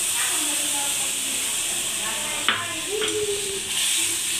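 A milk-based curry sauce bubbles and simmers in a pan with a soft, steady hiss. A few brief clinks and stirring scrapes come through the bubbling.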